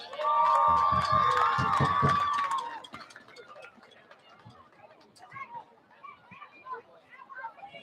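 At a Thanksgiving high school football game, the crowd cheers for the Lady Bulldogs cheerleaders at half field, faint scattered cheers and chatter rising after a loud announcer's voice over the stadium speakers.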